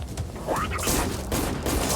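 Gunfire bursts in the shooter game ROACH, with several sharp rapid shots cracking loudly in quick succession over game noise, and a voice talking under the action.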